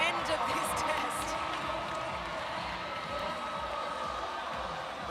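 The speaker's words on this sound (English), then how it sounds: "The crowd cheer you heard was party boy Andrew Samble, who managed to get through his pirouettes." Crowd noise from CrossFit Games semifinal spectators forms a steady, fairly distant wash of cheering throughout, mixed with a commentator's voice speaking over it.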